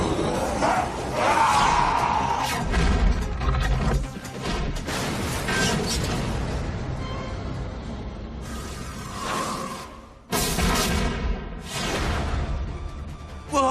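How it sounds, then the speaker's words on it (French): Cartoon cannon fire in an animated action series, loud booms and crashing blasts with whooshes in a busy battle soundtrack, bursts separated by brief lulls. "Peut-être que quelques canons feront l'affaire."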